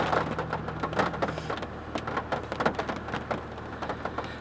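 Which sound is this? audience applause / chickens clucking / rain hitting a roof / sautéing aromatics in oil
rain hitting a roof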